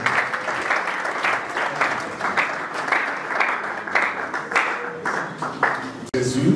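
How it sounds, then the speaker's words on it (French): Sustained, dense applause and clapping from a crowd at a religious wedding ceremony carry on for several seconds, with a voice speaking over it. "Nous acclamons très très fort pour la gloire du Seigneur"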